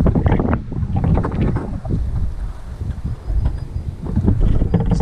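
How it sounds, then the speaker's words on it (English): Wind buffets a microphone outdoors, a heavy, low rumbling roar that surges and fades in uneven gusts throughout. It stays loud and close, with no talk over it. "It's annoyingly windy actually."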